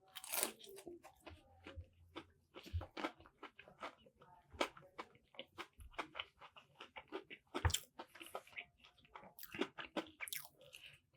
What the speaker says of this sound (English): but first bite of the tenders here